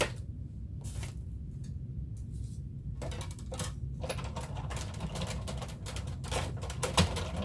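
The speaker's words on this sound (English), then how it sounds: "I'm gonna go ahead and put that through my die cutting machine" A die cutting machine runs crepe paper through it, giving a string of sharp, close mechanical clicks and clacks in uneven bursts over a low background rumble.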